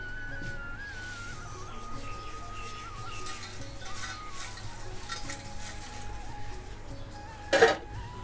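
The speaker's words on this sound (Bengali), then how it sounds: "এরকম হালকা হালকা করে উল্টে পাল্টে ভেজে নেব।" Neem leaves frying and being tossed in a pan, a steady soft sizzle and stirring throughout with a brief louder scrape near the end, no talking.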